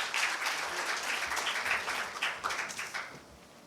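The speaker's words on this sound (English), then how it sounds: "A big round of applause." Applause from a summit audience for a speaker, a burst of clapping that stays dense and then thins into scattered individual claps before fading out.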